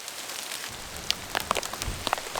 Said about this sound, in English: This is sleet. It's sleeting in the middle of May.